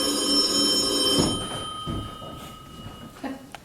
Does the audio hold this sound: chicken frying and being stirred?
no